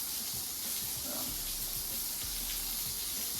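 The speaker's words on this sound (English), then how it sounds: "We're just going to rinse the dirt right out the door." Water rinsing dirt across an epoxy-coated garage floor and out the door, a steady broad hiss of spray and flowing water that runs unbroken throughout.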